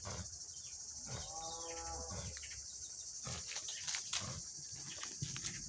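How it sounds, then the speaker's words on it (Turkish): A sheep bleats once in a drawn-out, wavering call, with high insect-like buzzing and scattered animal noises around it. "Koyunlarımız."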